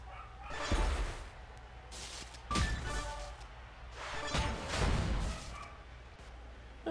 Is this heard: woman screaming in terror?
no